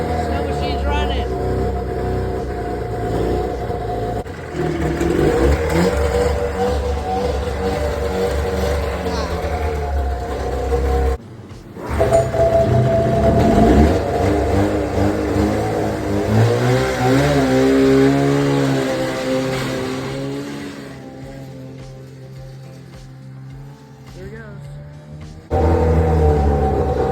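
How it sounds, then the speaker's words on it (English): Repaired snowmobile engine with freshly cleaned carburetor jets running loud and close, idling and rising in pitch through repeated revs over nearly half a minute, with people talking over it. "Yeah, it's running. Snow machine's running."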